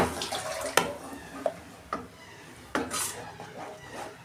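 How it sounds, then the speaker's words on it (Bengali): A mixer grinder bowl being rinsed with water in a home kitchen: splashing and swishing water with a few sharp clinks and knocks of the bowl, close by and at moderate volume. "মিক্সির বাটিটা একটু ধুয়ে দিচ্ছি।"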